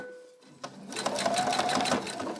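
A sewing machine basting straps onto a self-drafted fabric tote bag starts after a brief pause and runs as a fast, even mechanical stitching rattle for over a second, fairly close and clear.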